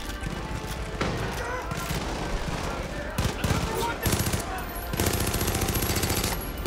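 Dense automatic gunfire in Far Cry 5, with loud continuous bursts and rapid fusillades over a noisy in-game background, rattling on almost without pause.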